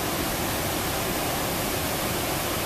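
Floodwater rushes through a creek that has left its banks in Lefthand Canyon near Boulder, Colorado, a constant dense roar of torrent close by, with no talk.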